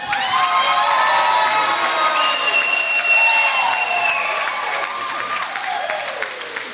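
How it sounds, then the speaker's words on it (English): Loud applause and cheering from an audience honoring Jade, with excited shouts and whoops riding over steady clapping that continues throughout. "And finally, a round of applause for Jade."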